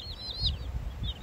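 Cornish Cross meat chicks chirp in a group, giving several thin, high peeps in quick succession over a low, muffled background rumble.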